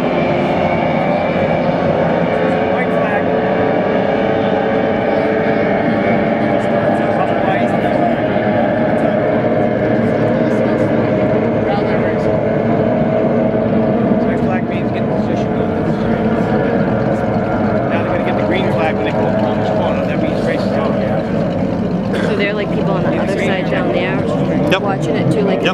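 Hydroplane racing boat engines warming up on the Merrimack River near a yacht club, a loud, steady droning roar that runs the whole time, with people talking over it.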